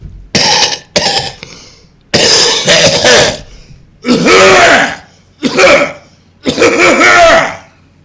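A man coughs hard and repeatedly in six harsh bursts with short gaps between them, close and loud, some bursts rough and throaty like heavy throat clearing.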